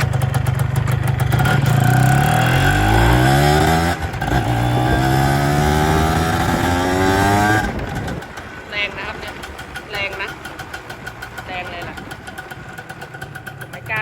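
A Honda Beat 110 motorcycle engine, ridden one-handed, revs loud and close with rising pitch, then settles to a quieter running note while birds chirp nearby.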